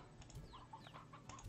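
Chickens clucking in the video game Slime Rancher, a few short, nasal calls over a low, steady background drone of game ambience, with no talking.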